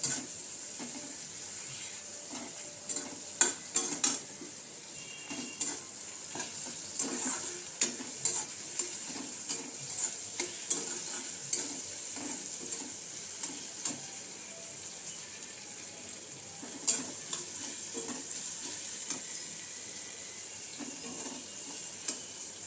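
Spices with a little salt frying in a pan for Bengali dal, giving a steady low sizzle broken by frequent scraping stirs of a spoon, close by, with no talking.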